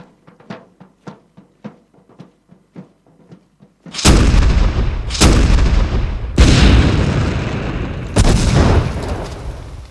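Russian artillery bombarding the Viapori sea fortress (Suomenlinna): a run of faint, sharp distant pops gives way to four massive booming blasts, each with a long rolling rumble that fills the space before the next shot.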